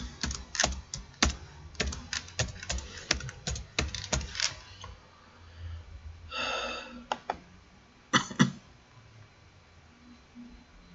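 Fingers type a password on a computer keyboard in short bursts of quick clicks, then pause and add a few final louder keystrokes, with light breathing in the background of a quiet room.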